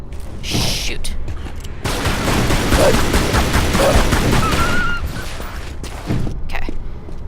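Gunfire rings out in Tomb Raider: Anniversary, with rapid bursts of shots and booms filling several seconds, loud and close. Background game noise sits underneath.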